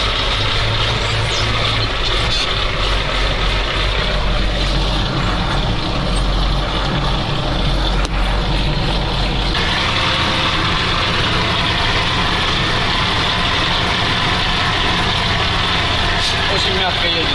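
A ZIL 4975 truck, running again after twenty years of standing idle and being submerged, drives with a steady low engine rumble and road noise. People talk over it throughout.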